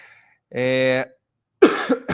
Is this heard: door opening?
no